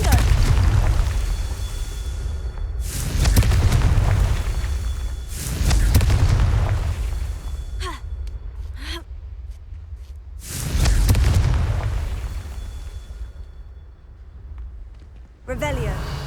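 Confringo spell blasts from the Hogwarts Legacy video game, several loud booming explosions with rumbling tails, some sharp crackling bursts in between, mixed with in-game voices and talk.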